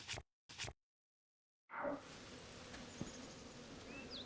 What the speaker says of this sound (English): I'm gonna get attacked by bees, aren't I?